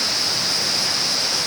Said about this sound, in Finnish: löytyy kiva vesiputous ja luonnon rauha